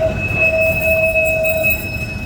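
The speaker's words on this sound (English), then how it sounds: "with a view of all these passing trams on the promenade" Trams passing along the Blackpool promenade, with a steady rumble of wheels and a sustained high metallic squeal from the rails lasting for a couple of seconds.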